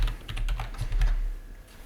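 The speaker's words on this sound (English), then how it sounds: "So I type in shark" A few quick keystrokes on a computer keyboard type in a short search word, close and clear with no talking.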